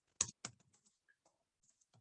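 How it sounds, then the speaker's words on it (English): Keys tapped on a computer keyboard in a quiet room, with two sharp clicks close together, then a scattering of softer, irregular taps and a final pair of clicks. "Let me type this in here."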